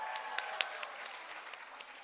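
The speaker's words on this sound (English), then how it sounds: "Give them another round of applause for our beautiful and intelligent contestants" The audience at the Miss Universe Cayman Islands pageant applauds the contestants: a fairly faint, distant ripple of clapping from a crowd, with a few sharper claps and a brief whistle-like squeal near the start.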